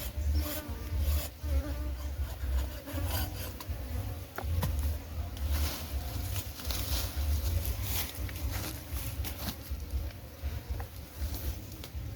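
Honey bees buzz continuously and close by around a fallen kitul palm log in a tea estate, a dense droning hum with flickers as insects move around, no speech.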